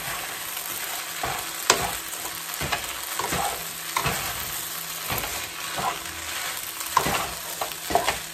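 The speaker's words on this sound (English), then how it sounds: "And then you want to toss everything to coat it in the sauce." Ground beef lo mein being stir-fried and tossed in sauce in a hot pan, quiet steady sizzling punctuated by repeated scraping stirs and clanks of a utensil.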